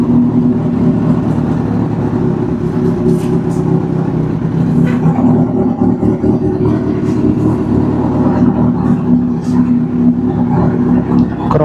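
A cold Kawasaki Z800 motorcycle engine runs loud and steady, a heavy continuous rumble that stays close and fills the whole stretch, with faint voices underneath.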